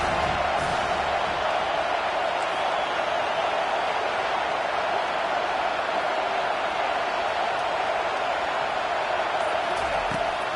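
A stadium crowd at a college football game between Oregon and Penn State roars steadily as it backs the defense on third down, a dense, unbroken wash of cheering noise throughout.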